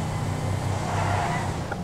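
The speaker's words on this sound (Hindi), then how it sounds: "और 6th में भी अगर मैं चला रहा हूँ ना तो इंजन फुल कर रहा है" Modified Mahindra Bolero in GTA 5 holding sixth gear with the engine pulling hard, a steady, loud droning engine note with low harmonic bands running unbroken throughout.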